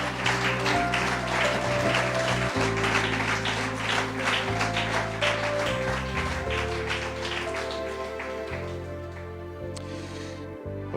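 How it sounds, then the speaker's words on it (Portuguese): Steady applause from a church congregation, dense and continuous for several seconds, fading slightly toward the end over a sustained background tone. "Damos um aplauso para Jesus."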